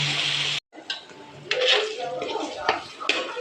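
Chopped tomatoes tipped into a pan of golden-browned oil for dried anchovy (nethili karuvadu) thokku, making a brief pause and then close, steady clattering and scraping of a spoon against the metal pan.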